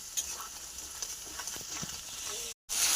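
Spice masala stirred and fried in a pan until the oil separates, a soft continuous sizzle with occasional scraping stirs, close and fairly quiet before a brief cut.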